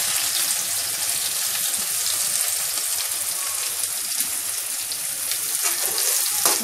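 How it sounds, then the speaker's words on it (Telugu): Onion slices, coriander stems and curry leaves fry in hot oil for a gongura salted fish curry, giving a steady close sizzle with crackling pops and no talk. "ఇప్పుడు నూనె కాగిపోయింది కదా, ఇది ఉల్లికాయ ముక్కలు వేయాలి."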